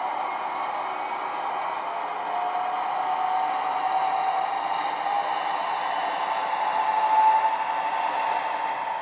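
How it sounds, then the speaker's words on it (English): A model locomotive fitted with Ring Engineering Railpro control, set at 50% load, powers up to move: a steady, fairly loud mechanical drone with a thin whine holds throughout, swelling slightly toward the end. "turning it up, we'll get the locomotive moving"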